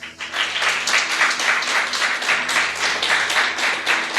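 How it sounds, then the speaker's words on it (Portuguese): Church congregation applauding together, a dense steady patter of many hands at moderate loudness with a few voices mixed in, lasting a few seconds. "Irmão, vamos aplaudir, que ele merece"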